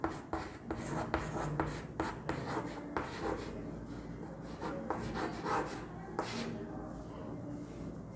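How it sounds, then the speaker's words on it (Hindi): Chalk or marker writing on a board in a classroom history lesson, a steady run of short scratchy strokes close by, with brief pauses between words and no talk over it. "मैं लिख देता हूँ"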